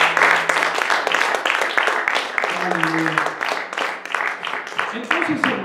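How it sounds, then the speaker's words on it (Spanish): A church congregation claps along during a Spanish-language sermon, steady rhythmic hand claps carrying on under a preacher's voice and voices speaking throughout. "Dale un aplauso al Señor."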